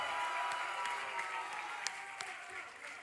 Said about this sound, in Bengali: এদের জন্য একটা জোরে হাততালি হোক